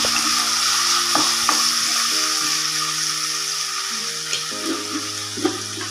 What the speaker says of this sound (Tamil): போட்டு எல்லாத்தையும் நல்லா மிக்ஸ் பண்ணி விட்டுலாம்